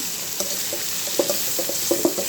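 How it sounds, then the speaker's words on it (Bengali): A wok on a low gas flame gives off soft, irregular crackling ticks and light sizzling pops over a steady low hiss, fairly close and without talk. "কড়াইটা শব্দ হচ্ছে"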